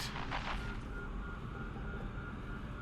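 A huge alien gun firing in the underwater survival game Subnautica, a loud blast at the start followed by a deep, rumbling roar that trails off slowly.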